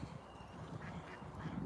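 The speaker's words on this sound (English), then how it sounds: "These are Canadian Indian runner geese that are coming up when I can get close enough." Indian runner geese calling in an urban park, a soft, faint series of nasal quacking calls repeating over a steady outdoor background.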